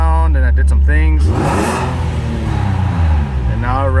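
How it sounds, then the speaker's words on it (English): A car engine revs sharply, its pitch sweeping up and down close by, with a voice speaking over the start and end. "and now it revs like normal"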